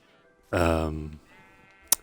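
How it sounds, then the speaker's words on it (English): A single Minecraft sheep gives one clear, fairly loud bleat, followed by quiet game background and a brief sharp click at the end. "So I'm upping the amount of sheep we have as a result of that."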